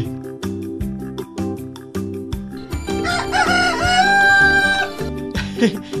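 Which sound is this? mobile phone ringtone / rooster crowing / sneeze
rooster crowing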